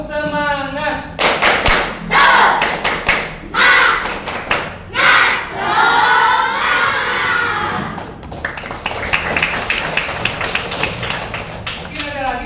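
Sixth-grade class of elementary school children performing the tepuk semangat clapping chant, sharp clap bursts in a rhythmic pattern alternating with shouted group chanting, loud and close in a classroom.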